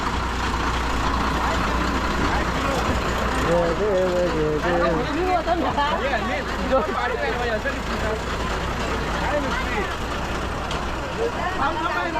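An MSRTC 'Lal Pari' state transport bus engine drones at idle with a steady low rumble, close and continuous, while people talk over it.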